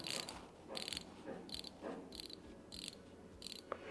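Seiko Baby Marine Master dive watch bezel rotating, producing soft, muffled clicks in evenly spaced bursts over a faint hiss, heard close and quiet with no voices.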